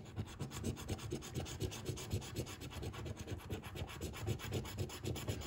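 A coin or scraper rasps repeatedly across a French scratch-off lottery ticket, producing quiet, close, rhythmic scratching strokes in quick succession with no talking.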